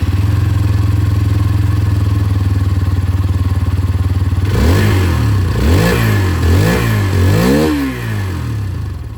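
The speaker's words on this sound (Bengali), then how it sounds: "দুটো বাইকের যে এক্সস্ট সাউন্ড সেটা আপনাদের শুনিয়ে দিয়ে স্টার্ট করি এখানে এক্সট্রিম 160R 4V-র সাথে।" A Hero Xtreme 160R 4V motorcycle idles with a steady, thrumming exhaust note, then is blipped several times, its engine rising and falling in quick revs, loud and close, with no talk.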